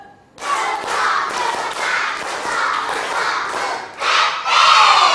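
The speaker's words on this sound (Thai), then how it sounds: "เอาหนึ่งสองสามปรบมือพร้อมกันหนึ่งชุด" A class of children claps together in unison through a set clapping pattern, a loud, steady run of group claps mixed with excited shouting and crowd noise over several seconds.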